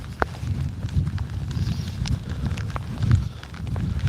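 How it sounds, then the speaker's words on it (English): Several horses pass on an outdoor trail, their hooves clip-clopping in an irregular run of hollow knocks at moderate distance over a low rustling background. "just passing more horses"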